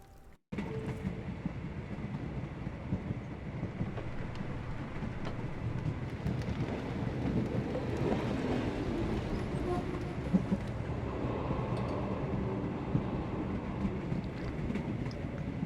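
A train rumbles steadily in the Sherlock Holmes: The Awakened video game, a continuous low rolling drone with a windy, rainy wash over it, heard alone.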